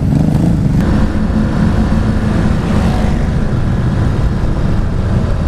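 A stock Ducati Hypermotard supermoto engine revs loudly and close by, a steady dense roar with low rumble held throughout, no talk over it.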